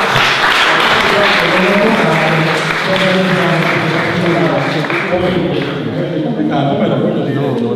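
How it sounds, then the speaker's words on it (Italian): Applause from an audience at a cultural presentation rises briefly and stays faint beneath someone speaking into a microphone, who talks steadily through the whole stretch. "Grazie, un applauso a Pippo, all'Andrea."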